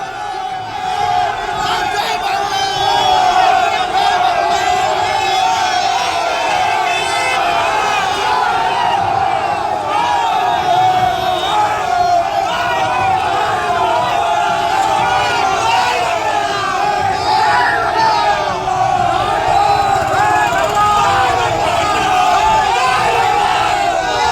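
Trinamool supporters waving black flags shout slogans at BJP leader Sukanta Majumdar during a campaign stop in Dinhata, Cooch Behar: a loud, continuous crowd chant with overlapping yells and cries that lasts the whole stretch without pause.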